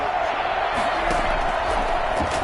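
Stadium crowd noise in a football video game on PS5, a steady dense roar of the crowd with faint cheers and shouts running through the whole stretch.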